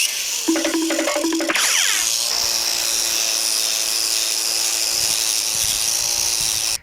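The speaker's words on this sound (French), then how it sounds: "la table est beaucoup trop rouillée. Je vais devoir utiliser toute ma brosse qui m'a coûté quand même 17 balles." A brush scrubs rust off a badly rusted metal table with a steady, close, grinding whir and hiss that runs almost unbroken after a brief tonal start.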